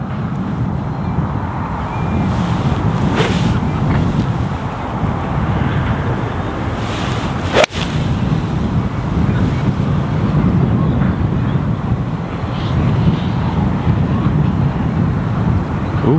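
Wind blowing across open golf links, a continuous gusty rumble of microphone buffeting throughout, with one sharp brief knock partway through.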